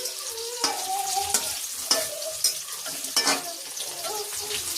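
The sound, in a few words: garlic frying in oil in a pan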